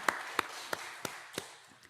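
During a Sunday church service, a handful of sharp, evenly spaced claps ring out in a slow rhythm, fairly close in a reverberant room, then fade away rather than swelling into full applause.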